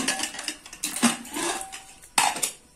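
A few close metallic clanks and scrapes as a pressure cooker lid is twisted and lifted off after cooking eggplant, with short pauses between them.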